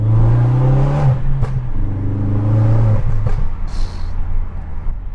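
A 2016 Ford Focus RS hot hatch pulling hard in second gear, heard from inside the cabin with the windows partly down, the loud engine note climbing steadily in pitch, easing briefly, then climbing again.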